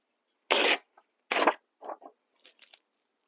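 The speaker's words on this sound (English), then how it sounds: "Okay, so let's rip it here." Paper torn by hand for a junk journal page: two sharp, close tearing rips, followed by a few softer crinkles and small paper rustles, with no talking.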